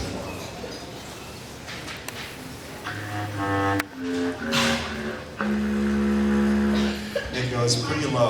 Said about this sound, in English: It's called the bass clarinet